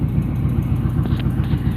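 A car engine with a Rochester QuadraJet carburetor idles at about 800 RPM, giving a loud, close, steady rumble with an even pulsing beat and no talking.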